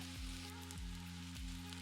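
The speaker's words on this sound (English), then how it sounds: "we're going to start frying our sweet potato chips" Thin-sliced sweet potato chips frying in oil in a pan, a faint, steady sizzle and crackle with a low hum underneath, no talking.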